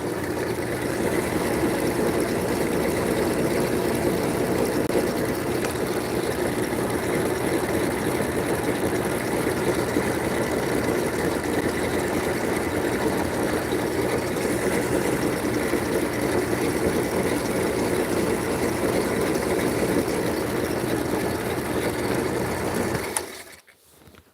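Lapidary faceting machine polishing facets on a Pennsylvania garnet, a steady motorized whir with grinding hiss that runs unbroken for over twenty seconds before cutting off abruptly at the end.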